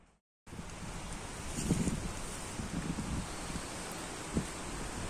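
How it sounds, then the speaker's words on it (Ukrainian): Steady wind roars and gusts against the microphone in a forest in November, a broad rushing noise with a few louder bursts, continuous throughout. "Оце вітер піднявся."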